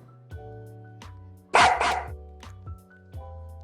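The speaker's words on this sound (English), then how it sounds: "that dog just echoes for some reason. Bark, bark." A dog barks a few times up close, sharp yips with a slight echo, under a steady musical hum from a casual online chat stream.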